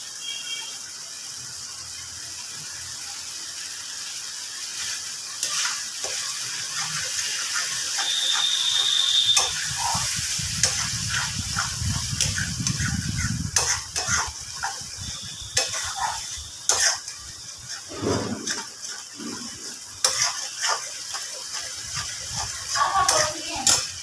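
Spiced masala for a freshwater aar fish curry sizzling and being stirred in a pan, with ghee added, steady frying hiss under repeated scraping and clinking strokes of a spatula, close and continuous throughout.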